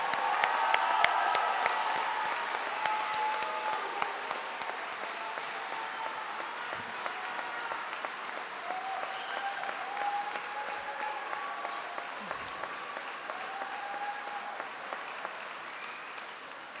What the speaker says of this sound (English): let's give this class one more big round of applause before our closing